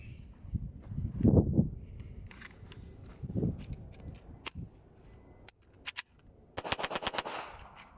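Shots from a Hi-Point JCP .40 pistol ring out during range testing: a few scattered single reports, then a quick string of sharp cracks near the end, with some handling clatter between them.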